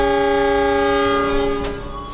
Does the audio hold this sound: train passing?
yes